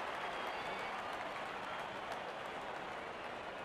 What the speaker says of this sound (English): Wonderful 50 and the crowd applauds.